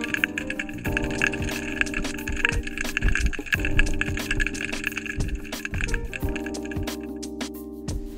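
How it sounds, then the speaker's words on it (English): Dense underwater clicking and crackling with wet, bubbly textures, a busy continuous patter of hundreds of small bait fish feeding on a dead mullet beneath a fishing pier, steady throughout. "how it sounds like when hundreds of bait fish are eating a dead mullet, here you go."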